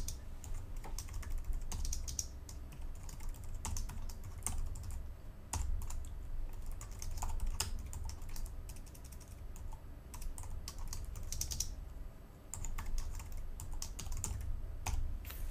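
Someone types code on a computer keyboard, producing a quiet, steady patter of close keystrokes in irregular bursts with occasional louder key hits, and no speech.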